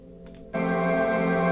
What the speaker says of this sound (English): It consists of a reversed note right here